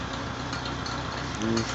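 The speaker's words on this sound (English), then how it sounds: "I just figured I'd give the Cub a little cold start." Farmall Cub tractor engine idling steadily after a cold start, a low, even rhythmic chug with faint ticking, continuous and moderately close with a brief louder swell near the end.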